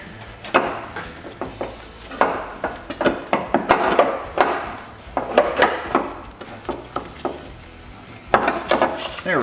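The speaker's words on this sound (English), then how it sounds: "let's go ahead and remove this valve cover on the passenger side" Removing the passenger-side valve cover on a 2004 Subaru Forester XT engine in a tight space, with scattered clunks, scrapes and metallic knocks of parts and tools being shifted and worked loose.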